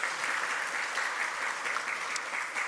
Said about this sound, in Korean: 우리 환영에 박수하시겠습니다